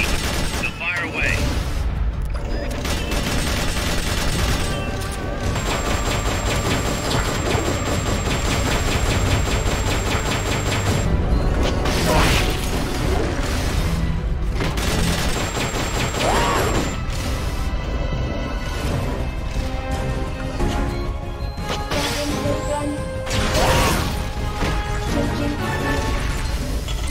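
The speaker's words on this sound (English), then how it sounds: "Missiles." Missiles firing and exploding during a boss battle in Metal Gear Solid Peace Walker, a continuous dense roar of blasts, booms and mechanical game noise that stays loud throughout, with speech mixed in.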